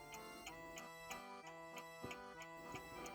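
An antique French table clock ticks steadily and close up, its regular metallic tick-tock beats repeating about three times a second with faint ringing overtones from the movement.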